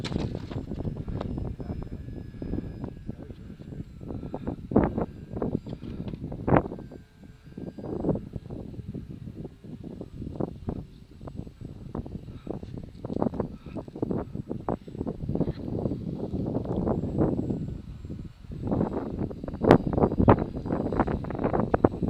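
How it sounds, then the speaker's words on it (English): Gusty wind buffets a microphone during a Blackburn light aircraft flight on a windy day, irregular close rumbling thumps over a faint steady engine drone, no voices. "The wind is quite strong."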